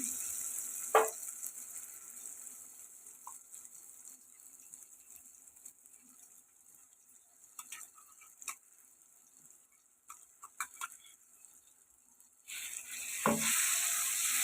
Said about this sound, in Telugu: ఇవి కూడా బాగా కలుపుకొని కొంచెం ఫ్రై చేసుకున్నామండి